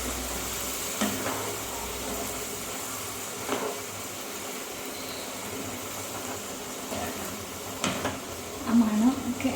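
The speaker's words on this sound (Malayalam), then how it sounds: "ഇനി നന്നായിട്ട് മിക്സ് ചെയ്തെടുക്കാം." Chicken curry stirred in a pan: a spoon scrapes and knocks now and then over a low, continuous sizzle, close and moderately loud.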